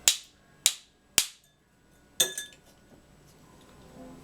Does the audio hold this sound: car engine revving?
no